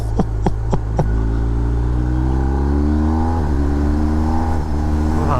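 BMW R1250R motorcycle engine on a test ride, a steady, close drone that climbs smoothly in pitch as the rider accelerates, after a few sharp ticks at the start.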